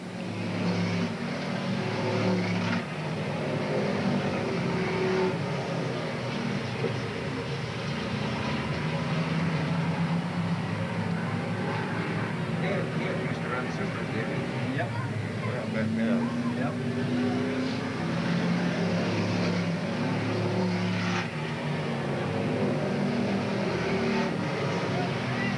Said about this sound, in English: A real race forming between those 3 cars up front out of turn number 4.